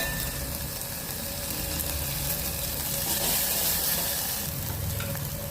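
Finely chopped tomatoes sautéing in a pan for usal, a loud continuous sizzle and hiss with steady stirring throughout, close up and without pause.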